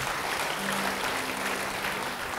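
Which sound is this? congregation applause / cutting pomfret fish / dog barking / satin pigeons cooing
congregation applause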